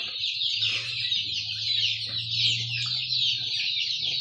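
Dense, continuous high-pitched peeping from a crowd of healthy young black chicks for sale on a farm, with a steady low hum underneath and no break in the chatter.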